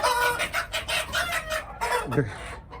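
Hens clucking and chattering steadily inside a chicken coop, several birds close by, with a short rooster-like call near the end.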